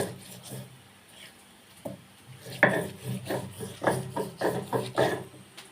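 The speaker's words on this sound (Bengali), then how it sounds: "আর একটু আদা দিয়েছি কুচি আমি বেটে নেব" Mustard seeds and chopped ginger are ground into paste, with rhythmic rough rubbing and rasping strokes that grow louder and quicker partway through, close and alone.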